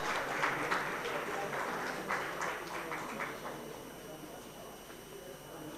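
Applause from an audience at a telecommunications spectrum management conference, a dense broadband patter of many hands filling the room and slowly tapering off.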